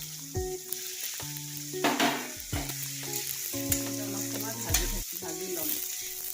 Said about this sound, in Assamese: চয়াবিনখিনি প্ৰথমতে আমি অলপ ভালকৈ ভাজি ল'ম।